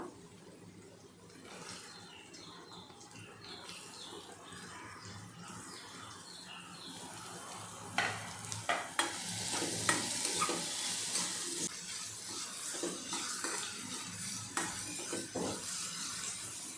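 Onion added to ginger and garlic frying in a pan for a wild leafy vegetable dish, a continuous sizzle building in loudness, with frequent sharp spatula scrapes and stirring clatters in the second half.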